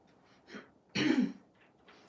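A single throat clearing, close and fairly loud, with a softer rasp just before it and quiet room sound around it.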